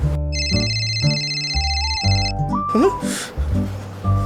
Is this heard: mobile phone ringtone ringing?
yes